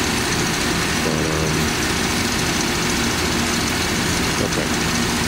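A car engine idles steadily at close range during an ignition timing check, a constant low rumble with an even throbbing texture throughout and no voices.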